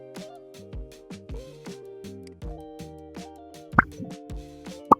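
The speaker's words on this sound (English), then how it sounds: "Pop effect." A cartoonish pop sound effect from Canva's library repeats several times, short bouncy plops in a quick rhythm with two sharper pops standing out, clear and isolated.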